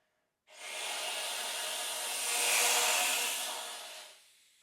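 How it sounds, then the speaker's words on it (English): A breathy, airy hiss of blown air through a saxophone fingered on E swells slightly in the middle then fades, with no clear note, alone and close. "And that was the E air sound."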